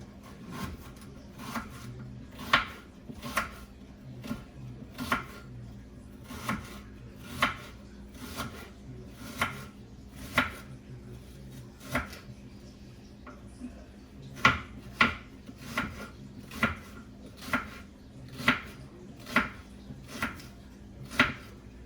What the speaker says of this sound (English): Cut up my green onions.